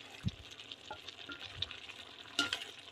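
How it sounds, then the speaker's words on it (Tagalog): Quiet bubbling and simmering from a pot of pakbet vegetable stew with okra, with a few soft clinks and stirring sounds scattered throughout. "Yun, kumukulo na"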